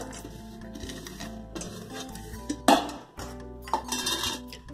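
Ground sesame and makhana laddu mixture is mixed in a pot, with clinks and scrapes of a utensil against metal over a faint background hum, including one louder scrape midway.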